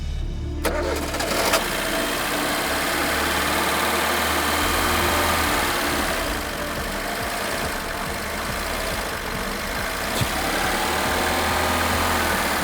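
A client's car at an auto repair shop runs with its engine held under throttle, a loud, steady, close mechanical roar that holds constant throughout with only slight surges.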